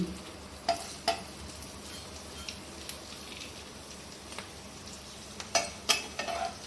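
Onion pakoras (peyaji) fry in hot oil with a steady low sizzle, broken by a few sharp crackles and spatters, no voices.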